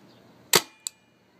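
A paintball gun fires outdoors, one sharp close pop followed by a fainter second crack a moment later, with quiet background.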